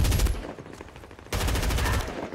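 Rapid automatic gunfire from a gun in Medal of Honor, two loud bursts of fast shots separated by a short pause, close and dominant with no speech.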